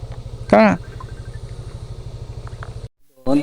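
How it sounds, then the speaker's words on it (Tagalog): Motorcycle engine idling steadily with a regular low throb while parking at a hillside stop near the Pacific View Deck in Dingalan, Aurora; a brief voice cuts in early and again at the end, and the engine cuts out near the end. "Ito nagparada kami ng motor."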